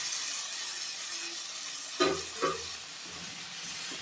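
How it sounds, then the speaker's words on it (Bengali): Bombay duck (lote) fish goes into cooked spice paste and fries with a constant close hiss. Midway a couple of soft thumps and scrapes come from the fish being added and moved, and nobody speaks. "এখন আমি লোটে মাছগুলো দিয়ে দিলাম"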